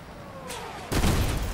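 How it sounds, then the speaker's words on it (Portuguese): Gunfire in the vehicle combat game Crossout, with a brief distant whine followed by a sudden loud burst of shots and explosive noise near the end of the short moment. "Ó os tiros aqui, ó."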